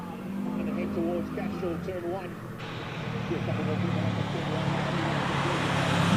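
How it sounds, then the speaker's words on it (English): Shelby Cobra race car with a 7-litre, 550-horsepower engine at a hillclimb, its deep rumble building and swelling toward the end while a commentator talks over it throughout. "that Cobra with its 7 litres of grunt. Listen to it."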